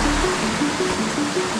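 Loud, steady rushing of a river flowing near a canyon trail, a dense broadband wash heard up close, with a faint repeating tonal hum underneath.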